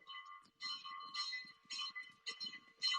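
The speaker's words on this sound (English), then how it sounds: "Do you hear the bells?" Bells ring in repeated clanging bursts at a Paris cemetery, Montmartre, signalling closing time, moderately loud with short pauses between peals and no talk.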